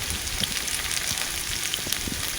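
Chopped onion and green chilies sizzling in a hot pan, a dense, crackling hiss with light spatters and the occasional soft stir, steady and close with no voices.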